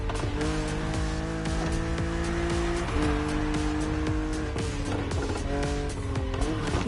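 A BMW Z roadster races in The Crew Motorfest, its engine holding a steady loud drone under game music with a shift in pitch near the midpoint, plus tire noise and brief skids against an aggressive opponent.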